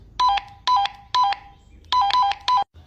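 A Baofeng handheld radio gives a roger beep on keying up: quick bursts of short electronic tones in a clipped pattern, loud and close, with no speech over them.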